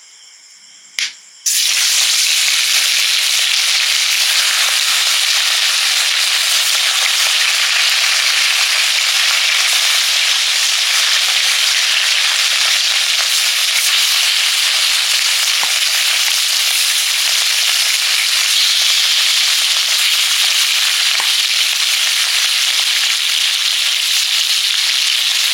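Snakehead fish rubbed with salt and turmeric frying in hot oil, a loud steady sizzle that starts suddenly after a brief quiet moment and runs on without pause, with a few faint clicks, no talk.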